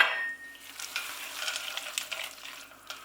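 Peas being stirred into soya mince in a hot pan, a soft scraping stir over a steady close sizzle, with no talking.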